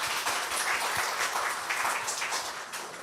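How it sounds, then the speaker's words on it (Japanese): A church congregation at a Sunday worship service applauding together, a dense, steady round of clapping that carries on for the whole stretch, with no talking over it. "もう一回拍手をお願いします。"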